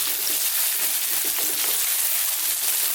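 Sweet potato cubes frying in a pan over above-medium heat for chili, giving a loud, steady sizzle with faint scraping from frequent stirring.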